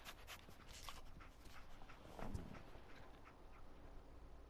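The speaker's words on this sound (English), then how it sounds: "Dog meat. Get the scent, boy." Dogmeat, the canine companion in Fallout 4, pants quickly and rhythmically in Diamond City over a background of game ambience, with a brief louder snuffle or whimper midway.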